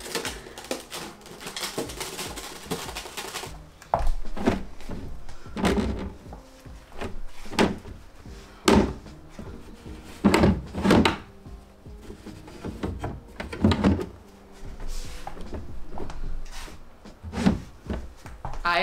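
Dresser drawers in a bedroom being handled, repeatedly slid open and shut with a series of sharp wooden knocks and scrapes, close and fairly loud, no talking.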